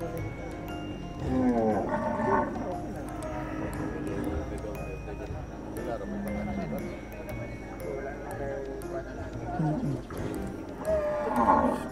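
Carabao (water buffalo) at a night livestock market in Bacong, giving low moos and lowing calls amid hoof clatter and crowd noise, while people talk and haggle over price throughout.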